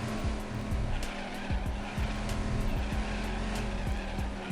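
Dodge Viper race car in the 1998 racing game Viper Racing, its engine droning steadily through a lap with repeated gear-shift drops and tire squeal, loud and continuous with no talk.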